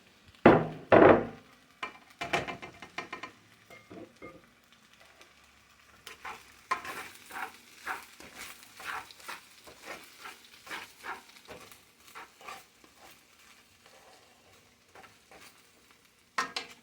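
Shrimp fried rice stirred and tossed in a hot pan, a few loud scraping clanks at the start followed by a steady run of soft sizzling scrapes and taps, close and without talk.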